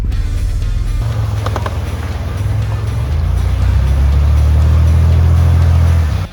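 A worn-out $500 car drives through a lake, its engine droning low and steady up close under a wash of splashing water, with brief clanks and sputters before the sound cuts off abruptly.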